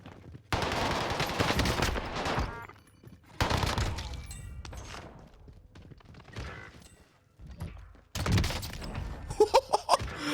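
Owen submachine gun fire in Warzone, coming in several loud automatic bursts separated by short pauses, with a quick cluster of sharp shots near the end.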